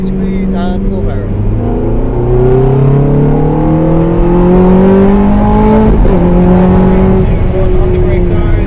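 A Ferrari F430 or Abarth 500 race car on the Mondello Park circuit accelerates hard at full power, its engine note climbing steadily through the gears, loud and close, with someone talking over it throughout.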